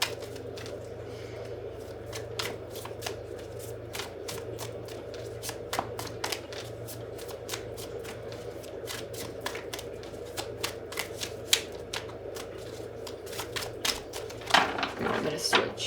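Tarot cards being shuffled by hand, a long run of rapid, crisp riffling flicks close by, soft and steady throughout.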